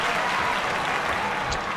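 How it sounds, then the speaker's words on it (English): A wrestling video game crowd applauds in a dense, steady wash of clapping that holds at a loud, even level for the whole short stretch. "you can hear, like I said, the respect from this crowd already"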